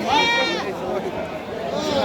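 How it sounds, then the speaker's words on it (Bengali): Goats at a large livestock market bleat near and loud, one long wavering call followed by another fainter one, over a busy crowd murmur while a man asks questions. "কয়টা ছাগল নিয়েছেন?"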